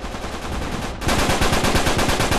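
Loud, close rapid-fire automatic gunfire in an Uncharted 3 free-for-all multiplayer match on Molten Ruins, a rhythmic stream of shots that grows heavier partway through.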